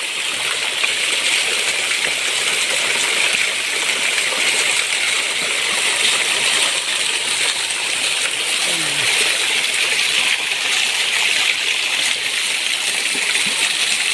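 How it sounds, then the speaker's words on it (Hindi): A natural waterfall pouring steadily, a dense broadband rush of falling water that fills the whole stretch evenly and loudly, close by, with no pauses. "कितना मज़े का समय है और कितना खूबसूरत आबशार है"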